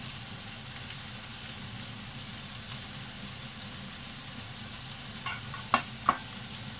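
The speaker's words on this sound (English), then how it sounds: "Right, and now we're going to do the onions." Onions fry for a peanut butter chicken stir fry, giving a steady, soft sizzle near at hand, with a few sharp clicks from utensils toward the end and no voices.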